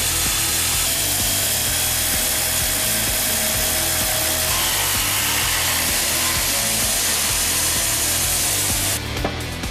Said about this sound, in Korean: 겉돌을 깨부수고 나면 한 장 한 장 돌을 잘라낸다